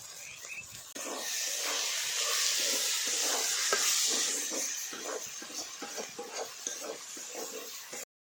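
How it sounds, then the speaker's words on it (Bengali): Spice paste with salt sizzling and hissing steadily in a pan for a Bengali potato and pomfret fish curry, with scattered scraping and stirring taps throughout, close and moderately loud. "এটা একটু বেশ কিছুক্ষণ ভেজে নেব"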